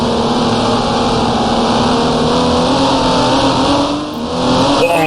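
A racing car engine in GT Racing 2002 drones loud and close with a sustained high-revving whine, dipping briefly near the end before climbing again on the final lap.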